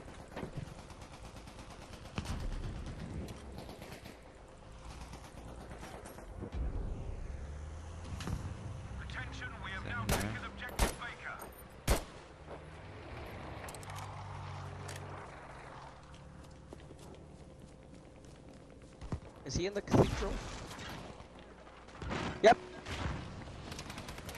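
Gunfire in the video game Battlefield V, scattered sharp shots and short bursts at varying distance, some loud close cracks clustered near the middle and end, with players talking over much of it.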